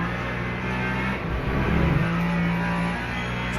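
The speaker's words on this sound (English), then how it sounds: "I can hear how the water is like" A race car in the Le Mans Ultimate racing game runs on a wet track, giving a steady engine drone with a short rise in revs midway, heard close from the cockpit.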